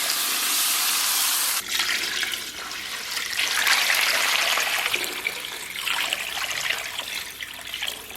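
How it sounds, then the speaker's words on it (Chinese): Water is poured into a cooking pot holding beef tomahawk ribs browned with soybean paste and soy sauce, a steady close splashing and trickling stream that starts abruptly and runs alone for several seconds. "然后给锅里边稍微来点水"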